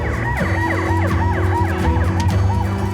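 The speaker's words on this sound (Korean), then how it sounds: "저희 소방차, 구급차 출동하겠습니다" Emergency sirens from a fire engine and ambulance dispatched to a building fire wail in a steady rising-and-falling cycle, loud and close, with a low engine rumble underneath and no voices.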